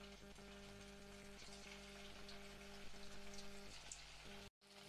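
Samosas frying in hot oil in a wok, a steady dense sizzle and crackle with faint rhythmic clinks, continuous and close until a brief cut near the end.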